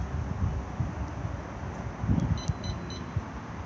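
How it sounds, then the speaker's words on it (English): A Coachman Laser 665 caravan alarm fob sounds three short, faint, high beeps as it disarms the alarm outdoors, under wind and rustling. "And then 3 beeps disarmed."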